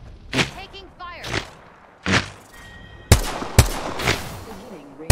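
Sharp, loud gunshots in Apex Legends, a handful of separate cracks and a few tight bursts spread over several seconds, with a voice speaking between them.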